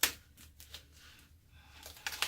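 Tape being peeled off a resin bottle-bottom mold with acetate backing, quiet close crackling and ripping bursts at the start and end with softer rustles in between.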